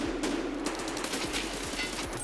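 Rapid automatic gunfire from a firefight in Escape from Tarkov Arena, a dense, loud barrage of shots bursting continuously over a steady low rumble without pause.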